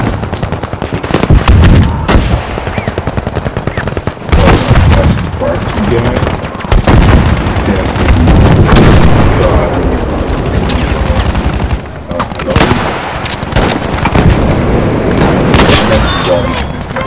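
Loud, continuous gunfire in the video game Battlefield V: rapid automatic bursts and heavy booms fill the whole stretch, with a player's excited voice now and then over the shooting.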